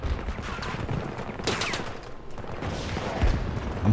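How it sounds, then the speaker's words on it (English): A burst launcher firing in Battlefield 2042, with rapid gunfire cracks and a sharp loud burst near the middle, set against a constant noisy battlefield roar with distant shooting. "Dirty little burst launcher action"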